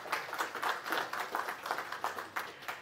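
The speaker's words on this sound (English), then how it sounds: "Let's give them a round of applause." Audience at a town hall meeting applauding, a steady, moderately distant wash of many hands clapping that continues throughout without talk.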